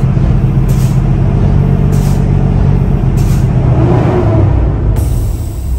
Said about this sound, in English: and just pump your brakes.